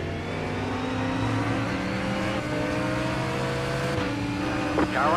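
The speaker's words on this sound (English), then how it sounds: "car on your left." Race car engine noise in a GT3 sim racing game at Sebring, a steady droning whine with shifting pitch as another car draws alongside and passes, continuous and fairly loud throughout.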